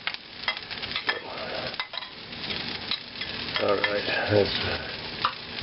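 Asian fried rice with celery and pre-cooked egg whites is stirred and fried in a pan, giving a steady close sizzle with scraping and clinking utensil strokes throughout, and a brief word spoken near the start.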